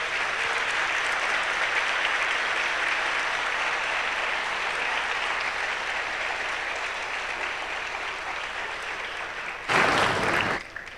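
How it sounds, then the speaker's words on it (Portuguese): A church congregation applauds at a baptism candidates' gathering with sustained, even clapping that fills the room, then a brief louder burst near the end before it trails off. "Vamos aplaudir agradecendo a Deus."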